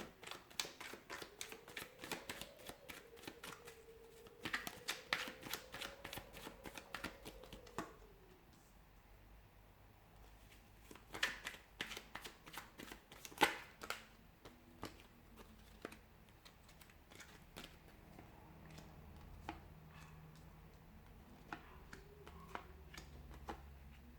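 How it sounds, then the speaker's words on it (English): Dense bursts of rapid riffling and card slaps come in clustered flurries, with quieter gaps between rounds of shuffling and a low hum in the background. "We'll give the cards a shuffle"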